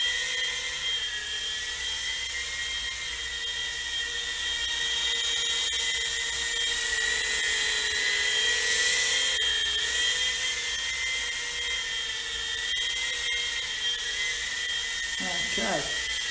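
Quadcopter motors spinning steadily on a basic quad setup, a continuous high whine with stable tonal bands throughout, close and fairly loud, with brief chirps near the end.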